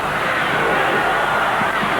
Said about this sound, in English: The crowd getting behind the Canterbury bench down side, urging them on